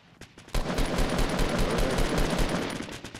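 Rapid automatic gunfire in the Fortnite video game, a loud, dense burst of closely spaced shots that starts after a few scattered rounds and continues without pause, with no talking.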